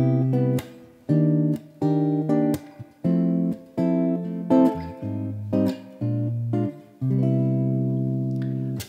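A series of extended seventh chords played one after another, each chord sounding clearly for about half a second to a second with brief gaps between, ending on a longer held chord; no voices.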